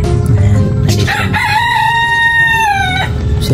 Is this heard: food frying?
no